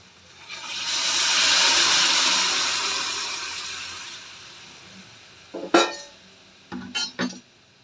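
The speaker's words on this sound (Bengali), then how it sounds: "এবারে আমি ছোলা সেদ্ধ করা জলটা দিয়ে দেব" Water left from boiling chickpeas pours into a pan of spiced chickpeas and potatoes with a rising, rushing splash that fades over several seconds, followed by a few short clinks of a utensil against the pan.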